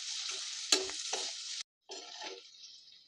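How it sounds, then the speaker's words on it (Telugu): Green chillies and onions frying with salt in a pan hiss and sizzle steadily up close, with scraping stirs and a brief pause before the frying resumes. "ఆనియన్స్ గోల్డెన్ కలర్ వచ్చేంత వరకు ఫ్రై చేసుకుందాం"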